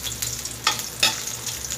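Ginger frying in hot oil in a kawali for chicken with coconut milk, a close bright sizzle with a few quick stirring swishes and bursts, no voices.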